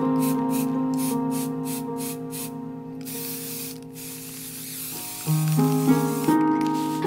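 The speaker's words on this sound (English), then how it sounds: "So I spray painted them outside." Gold spray paint hisses onto fabric leaves outdoors in a run of short, rhythmic bursts, followed by a longer hiss, while music plays in the background.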